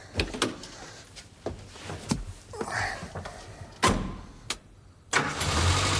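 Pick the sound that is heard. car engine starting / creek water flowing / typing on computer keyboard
car engine starting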